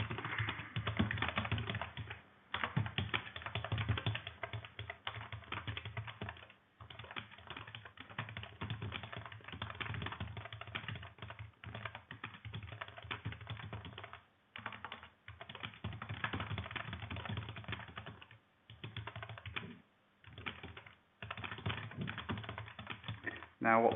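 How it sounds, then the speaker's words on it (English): Steady computer keyboard typing, run of key clicks, close and fairly loud, with brief pauses between bursts while someone types into a health digital platform toolkit form; no talk over it. "And you can see my poor typing skills."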